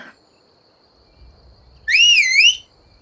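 A single sharp, wavering whistle rings out in Skyrim to call a horse, loud and close for about a second, with a faint hum and low footsteps before it.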